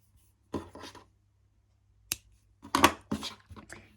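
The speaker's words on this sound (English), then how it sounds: "Now I'm going to cut my yarn" Scissors cut crochet yarn up close: a quiet rustle of handling, then a crisp single snip, followed by a few more rubbing, snipping sounds against a near-silent background.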